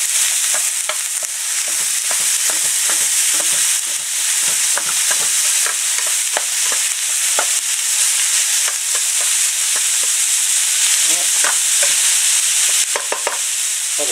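Minced meat and onions sizzle loudly and steadily in a pan for spaghetti bolognese, with frequent sharp scrapes and clicks of stirring throughout.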